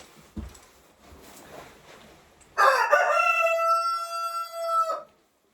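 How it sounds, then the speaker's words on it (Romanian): A rooster crows once, loud and close, a long drawn-out call lasting a few seconds after some faint rustling and a soft thump. "Scuzați cocoșul."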